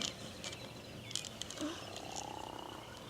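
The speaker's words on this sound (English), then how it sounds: "These frogs are making noise like this." Frogs croak outdoors in a quiet, faint chorus of short rasping calls with a rising trill, heard at a distance.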